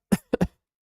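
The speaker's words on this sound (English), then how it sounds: "All right, I had a cough." A streamer coughs during a gaming livestream: one short cough, then a quick double cough a moment later, close and fairly loud, with silence after.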